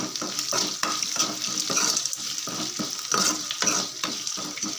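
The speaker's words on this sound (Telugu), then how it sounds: "ఇప్పుడు ఇందులోకి కొంచెం కరివేపాకు అయితే వేసుకుందాం" Curry leaves sizzle loudly in hot oil in a pan for spicy karam rice, with steady stirring scrapes repeating throughout over a constant close frying hiss.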